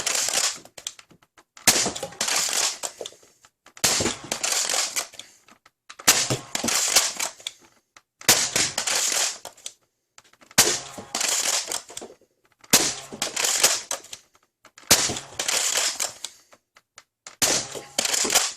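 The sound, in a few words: Nerf Rival Sideswipe XXI-1200 blaster firing chaos rounds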